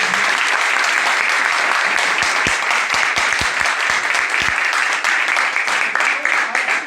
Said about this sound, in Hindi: तो आप सभी लोगों के लिए एक जोरदार तालियां बनी सारे